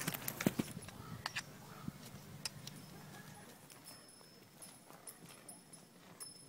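Hooves clip-clop on hard ground as a horse moves about close by, with scattered knocks and faint rustling and no one speaking.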